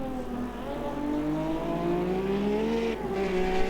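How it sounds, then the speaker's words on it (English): BMW M1 race cars drifting sideways at Jerez in Automobilista 2, a steady engine drone with sustained tire squeal sliding in pitch, moderately loud and continuous. "these cars drifting sideways at the same time"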